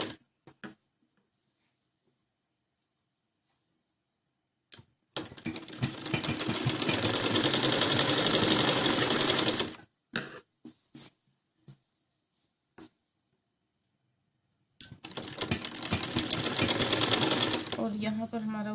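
A sewing machine stitches a plain straight seam on a butterfly-style salwar, running in two loud, steady bursts of rapid stitching separated by quiet pauses and a few faint clicks.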